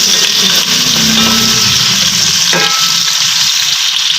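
Chopped onions sizzle and fry in hot cooking oil in a pan for a mixed vegetable bhujia, a loud continuous crackle with a brief stirring scrape partway through, close up and without speech.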